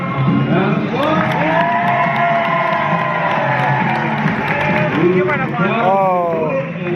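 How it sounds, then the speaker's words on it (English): Crowd cheering and whooping fill the stands at a Tortugas minor league baseball game, a steady loud roar with someone talking over it throughout. "Round of applause."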